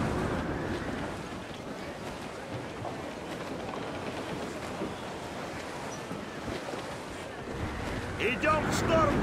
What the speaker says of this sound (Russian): Шторм, сэр! Плохо дело!